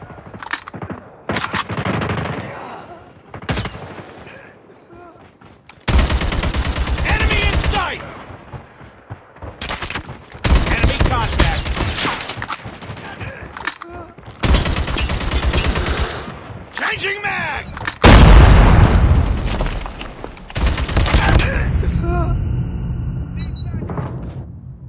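Sniper and other gunfire in a Call of Duty game: loud, booming shot bursts separated by brief pauses, with shouted in-game voices calling out over the action.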